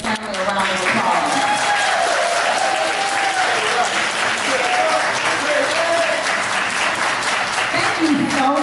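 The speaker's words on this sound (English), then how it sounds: "let's give our friends and family a round of applause." At a beauty academy graduation ceremony, a crowd gives loud, sustained applause for the graduates' friends and family, with voices mixed into the clapping.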